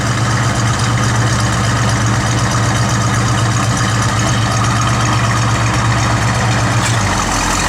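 A 1971 Plymouth GTX with a 440 engine idles steadily up close, a deep, even rumble holding for several seconds before the low drone drops away near the end.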